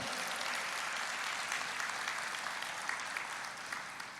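Church congregation clapping in sustained, dense applause that fills the whole stretch at steady loudness, with no talk over it.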